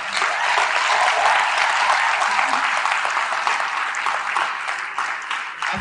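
An audience at a party event claps steadily and loudly for several seconds, a dense, even wash of applause with no speech over it.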